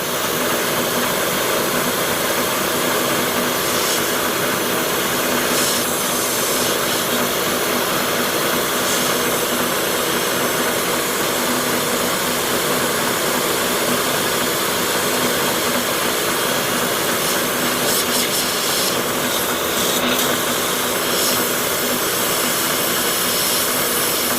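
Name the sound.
spotting drill running at 1,000 RPM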